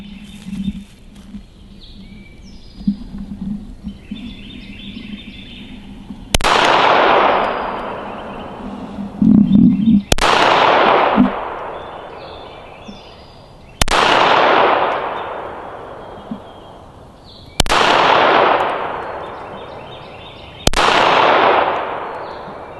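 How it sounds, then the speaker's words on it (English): Eight sharp reports from a Kel-Tec P32 pistol fired at about 50 yards outdoors, each crack followed by a long rolling echo, spaced a few seconds apart after a quiet stretch with faint birds. "Kel-Tec P32, 8 shots at about 50 yards."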